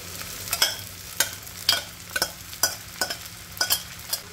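A spoon scrapes through a soaked sabudana and crushed-peanut mixture as it is stirred into potatoes frying in a pan for sabudana khichdi. Close, rhythmic strokes land about every half second over a soft sizzle.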